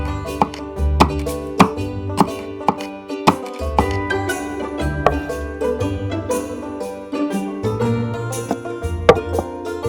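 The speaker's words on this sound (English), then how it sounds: "chop the onion finely and add it to the prepared mango" A knife chops onion finely on a board in a kitchen while a mango salad with chili and mint is made; a steady run of close, sharp knocks repeats irregularly over about ten seconds with no talk.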